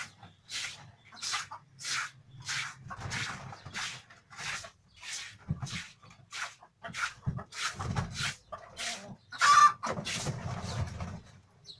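Chickens kept in a room cluck in a steady series of short, sharp calls with brief gaps between them, close by, with a faint low murmur underneath.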